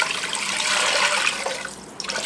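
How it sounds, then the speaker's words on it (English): Water pours steadily into a cooking pot while a southern meal is being made, a continuous hissing splash that fades slightly near the end, close by with no talking. "I'm just going to add some water"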